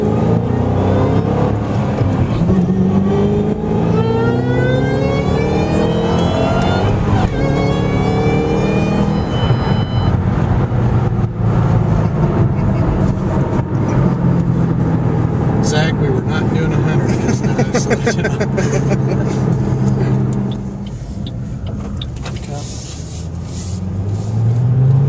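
A Ford GT500 engine revs up and down repeatedly, rising and falling in pitch, loud and close, with people talking over it.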